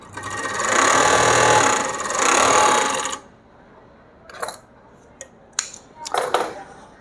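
An overlock sewing machine runs in two loud, steady whirring bursts for about three seconds, then falls quiet apart from a few short handling clicks and taps of fabric and parts.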